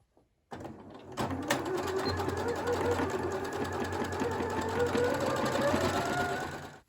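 A sewing machine runs steadily for several seconds, stitching shirring lines on fabric for a floaty summer top, with a close, continuous whirring hum and a brief start at the beginning.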